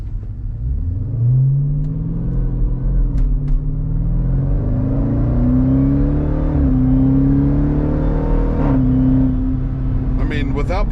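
A car accelerating hard through the gears, its engine note climbing to high revs, dropping at each shift and climbing again, loud and close throughout.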